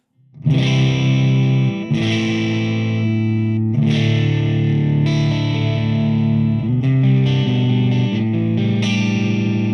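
Loud distorted electric guitar chords ring out through a Joyo Bantamp Jackman II amp head driving a miked 4x12 cabinet, struck several times in succession with heavy sustain and a roomy, saturated tone.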